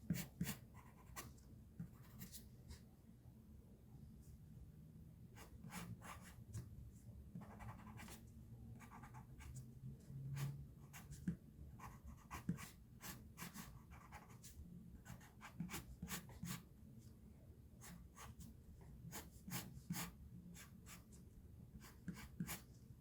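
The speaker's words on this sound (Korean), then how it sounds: "입술 사이 공간의 그림자 영역도 가장 어두운 색으로 칠해줍니다." A drawing tool colors in a sketch of lips with steady, soft scratchy strokes that repeat in a quick, even rhythm, close and fairly quiet throughout.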